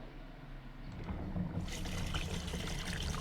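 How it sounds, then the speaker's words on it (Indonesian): Continuous flowing water added as a relaxing background effect, a steady broadband trickling and rushing that swells in loudness partway through and then keeps running evenly, with no talk. "Kita masukkan saja suara airnya di sini."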